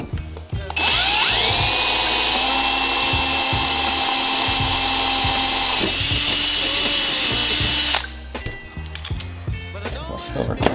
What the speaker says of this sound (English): So switch back to my 3/32, my number 40 drill bit. Use a little bit of cutting oil in that hole.